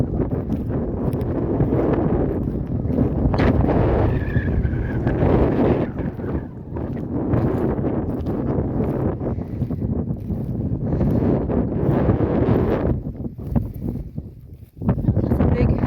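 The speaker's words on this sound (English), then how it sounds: "It's so windy, I hope you can hear me." Strong outdoor wind buffets the microphone in heavy, rumbling gusts that swell and dip throughout, with a person talking underneath the roar in open country.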